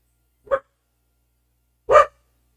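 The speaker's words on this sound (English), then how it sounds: "I can hear the other dog barking" A dog barks twice from nearby, a short yip followed by a louder bark about a second and a half later, with silence between.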